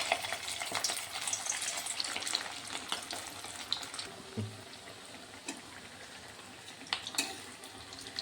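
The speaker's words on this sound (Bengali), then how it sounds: "তেল গরম হয়ে গেছে, যে তেলের মধ্যে দিচ্ছি একটা একটা করে।" Small balls of fish roe mixture frying one by one in hot oil, producing a steady close sizzle with scattered pops and crackles that eases slightly over time.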